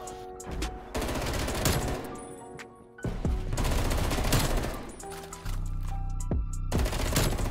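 Gunfire from teammates in Call of Duty: Black Ops Cold War, loud rapid automatic bursts with sharp individual shots, continuing in waves across the whole stretch with brief lulls between volleys, no talking.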